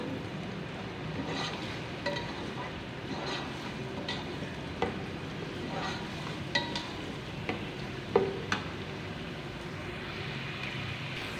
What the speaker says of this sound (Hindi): और प्याज को हल्का सा सौते करेंगे।